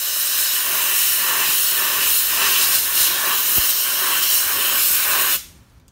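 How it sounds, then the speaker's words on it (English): Compressed air hisses loudly and steadily as it is blown underneath a Mitutoyo caliper to clear an Error C fault, a continuous close blast lasting about five seconds before cutting off abruptly. "Blow air underneath here."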